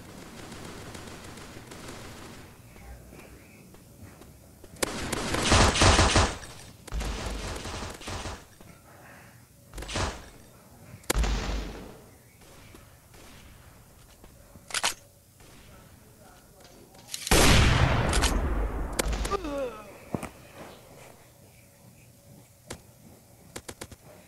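Gunfire in the video game Maskgun, a handful of sharp, loud bursts and single cracks scattered irregularly over a quieter background, with occasional talking.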